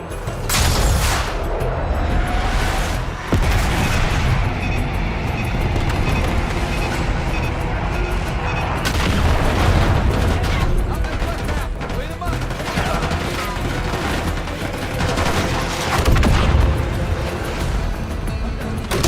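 Airstrike bombs landing in Call of Duty: Black Ops 6: a continuous, loud barrage of booming blasts and crackling fire, rising and falling in waves throughout.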